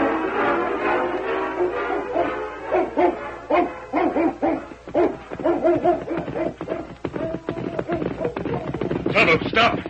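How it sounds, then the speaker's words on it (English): A hound dog barks and bays repeatedly as a radio drama effect, mid-distance and mixed with voices talking over it, the howls rising in pitch toward the end. "Ain't that a hound dog?"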